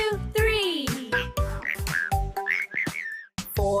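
Cartoon frogs in a 3D children's counting song croak in a bouncy series of short, loud, voiced calls, overlapping a cheerful melody.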